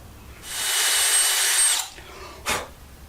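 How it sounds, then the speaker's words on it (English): A power drill with a countersink bit bores into a wood board in one loud, steady burst of about a second and a half, then a brief second spin-up. "Basically I'm going to countersink using this countersink tool"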